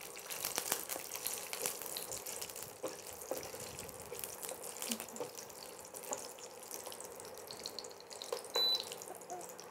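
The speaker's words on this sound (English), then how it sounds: "the reason why we want to saute or fry our cashews" Cashews fry in a pan for a vegan biryani, giving a steady close crackling sizzle with occasional soft stirring scrapes.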